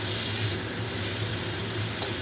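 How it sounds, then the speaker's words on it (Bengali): Potato and bitter gourd frying in a pan give a steady, close sizzle with a faint hum underneath, holding even and unbroken throughout. "এটা আমি নেড়ে চেড়ে তাহলে নামিয়ে দিই আর একটু ফ্রাই করে"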